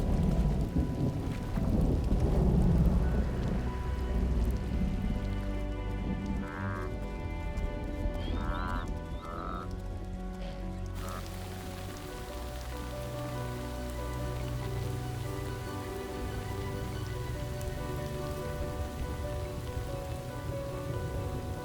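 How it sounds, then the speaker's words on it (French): A heavy rain downpour pounds the open plains, a dense steady hiss of rain hitting the ground with low rumbling thunder rolling beneath it, loud and continuous with no voices. "La plupart ne font que supporter le déluge."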